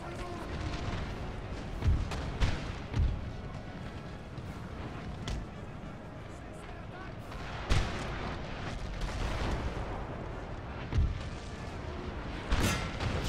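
Cannon volleys in the Napoleonic battle game Napoleon Total War, several deep booming artillery shots scattered at irregular intervals over a low rumbling battlefield din, with someone talking faintly underneath.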